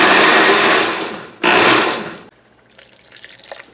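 A countertop blender pulses a vegan cheese sauce on its liquefy setting, roaring loudly in two bursts separated by a brief pause, then cutting off and leaving quiet handling noises.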